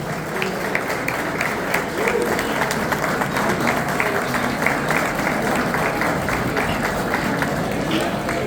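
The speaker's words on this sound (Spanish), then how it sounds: "Fuerte ese aplauso, muchísimas gracias." A hall of attendees at a Paraguayan art and culture event in Buenos Aires's Palacio Barolo applauds warmly, a thick, continuous roar of clapping holding steady for several seconds with faint voices mixed in.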